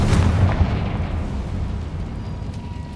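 A booming fire explosion from the Confringo spell in the video game Hogwarts Legacy hits hard at the start, then a rumbling roar slowly decays over three seconds.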